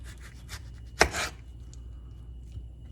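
A knife cutting a tomato down the middle on a board, one sharp, quiet chop with a brief scrape after it, set against near silence.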